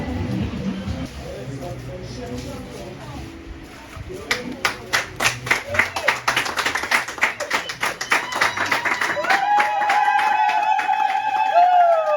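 Guests at an engagement party clap in a quick rhythmic burst that swells into a steady ovation, and then cheering and whooping voices rise over the clapping near the end. Someone is talking at the start.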